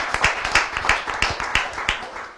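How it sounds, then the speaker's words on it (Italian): A small audience at a motocross event claps irregularly, with scattered sharp hand claps spread over a couple of seconds. "un applauso"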